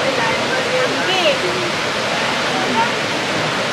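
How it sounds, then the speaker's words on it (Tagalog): Steady broadband roar of Mexico's tallest waterfall, heavy falling water mixed with spray, continuous and loud throughout, with voices talking faintly over it. "yung pinakamataas na falls nila dito sa Mexico"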